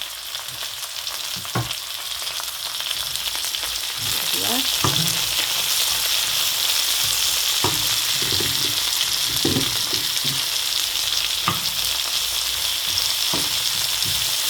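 Carrot and other vegetables sauté in hot oil in a pan for tomato rice, a loud steady sizzle with occasional scraping stirs and clinks of a spoon, no talking.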